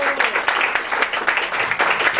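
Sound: applause

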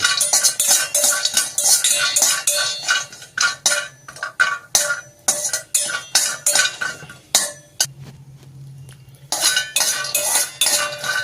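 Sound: stirring brinjal frying in a pan

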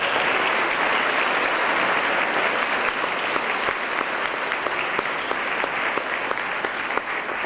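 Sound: audience applause for high school group

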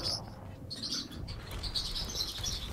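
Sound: birds chirping in Overwatch video game

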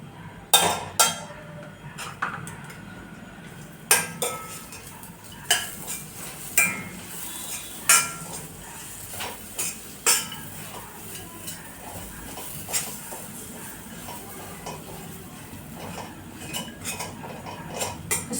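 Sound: roasting sweet potato with butter and dry fruits, stirring

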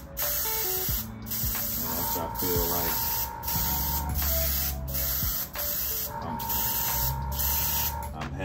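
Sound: airbrush spraying paint

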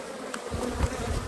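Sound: honeybees buzzing at an open hive

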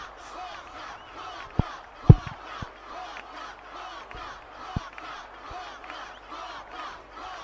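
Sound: crowd cheering at Blitzball match in Final Fantasy X video game

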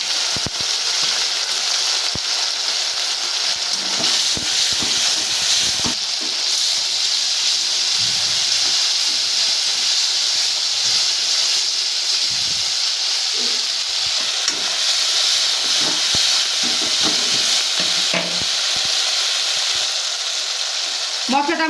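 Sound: nigella seeds and spices frying in hot oil

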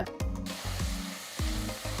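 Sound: ginger garlic paste sautéing in a pressure cooker

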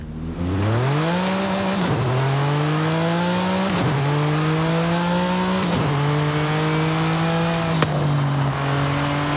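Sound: Porsche 935 engine sound in video game Forza Horizon 5

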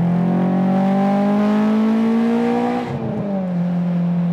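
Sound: Honda S2000 engine revving with wheel spin at 6000 rpm

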